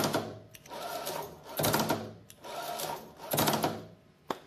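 An 1150 motor drives a Misumi linear slide on a single strung section, giving a buzzy mechanical whir in three sustained runs of about a second each with short pauses between and a sharp click at the end, heard alone.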